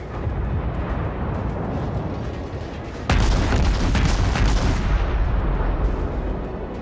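Naval guns fire in the World of Warships game, a heavy booming salvo bursting in sharply over a constant rumbling background and rolling on for a couple of seconds before easing back to the low drone.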